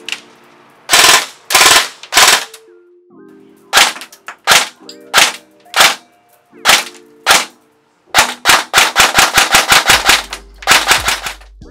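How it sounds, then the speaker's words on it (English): An ICS MMR Carbine, an M4-style airsoft gun, fires loud close sharp cracks, first in single shots and pairs, then in a rapid burst, with no talk. "These guns shoot flawlessly"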